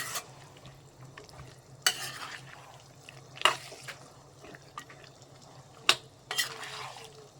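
Thick tuna fish pickle gravy simmers in a pan with a soft, low bubbling, broken by a few sharp scrapes and clacks as a spoon stirs it.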